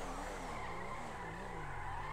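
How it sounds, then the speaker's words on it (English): Simulated car in GTA V doing burnouts, with a steady, continuous tire skid and squeal over a droning engine throughout, loud and close with no talk. "Let's just start doing burnouts"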